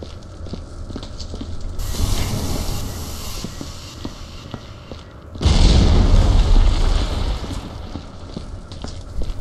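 An explosive detonating in the video game Viscera Cleanup Detail: a deep, roaring boom with heavy low rumble follows an earlier rushing surge, loud and sustained for several seconds before slowly fading.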